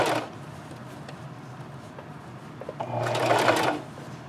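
A sewing machine runs in short bursts, stitching a scrub cap made from fat quarters, with a close mechanical whir that stops and starts before a louder, longer run near the end.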